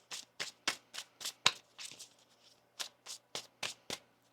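Tarot cards are riffle-shuffled by hand, a quick series of about a dozen crisp, papery bursts in a steady rhythm with a brief slower pause midway, close and fairly quiet with no talking.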